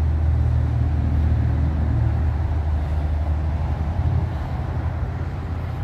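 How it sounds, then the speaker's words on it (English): Steady low rumble of road traffic on the A1 in the background, a continuous wash of passing vehicles with no voices. "You can probably hear the traffic behind"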